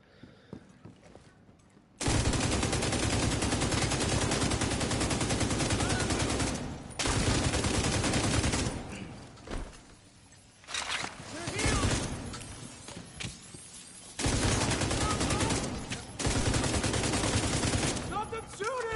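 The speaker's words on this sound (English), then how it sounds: "Stop them shooting!" Sustained bursts of automatic gunfire in The Division 2, long loud volleys separated by brief gaps, with a voice talking faintly in between.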